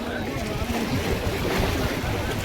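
Sea waves rolling in at Dhanushkodi near Ram Setu on India's southeastern tip, a steady broadband wash of surf with wind rumbling across the microphone.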